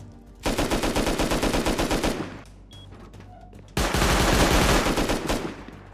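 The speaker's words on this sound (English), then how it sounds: "He was shooting a suppressed SAR that quickly." Suppressed SAR rifle gunfire in the video game Rust: two long, rapid runs of muffled shots in a fast, steady rhythm, close and loud, with a short pause between them.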